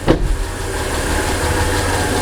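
A Mitsubishi Pajero 3 GDI engine idles close by, a steady low mechanical rumble with a faint hum, holding an even level after a brief louder knock at the start, and no voices.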